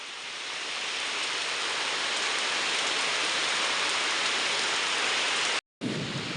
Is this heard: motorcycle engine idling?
no